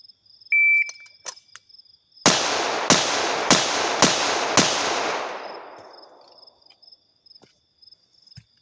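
Five pistol shots fired strong hand only ring out loud and close at an even pace, each crack decaying into a long echo tail, with a brief electronic beep before the string and no talking.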